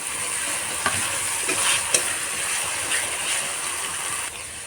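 Onion paste frying in a pan, a steady loud sizzle with a few faint scrapes of stirring, no talking.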